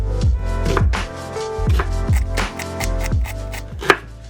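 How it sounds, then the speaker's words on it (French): A knife chops an onion on a cutting board, sending out a steady series of sharp, close, loud thuds in a fast, even rhythm with no talking. "Donc pour commencer je vais évidemment hacher un oignon"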